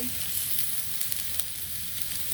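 Spices with turmeric and salt sizzle and fry in a pan over a clay stove at night, a steady close crackling hiss with small pops and a brief stir.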